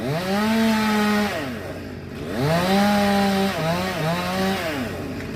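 A tree service worker cuts through a tree trunk with a chainsaw in London, Ontario. The engine revs and sags in loud, rising-and-falling bursts as the blade bites into the wood, with no talk.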